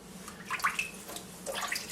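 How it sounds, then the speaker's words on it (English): Water drains and splashes from one side of a bowl where washed spinach floats, a soft uneven pouring with gurgling bursts, close by and moderately quiet, no talking. "I will drain this side"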